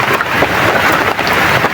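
Heavy rain pouring down outdoors during a rescue search, a dense steady wash of noise with gusty rumbling and microphone buffeting, loud and close throughout.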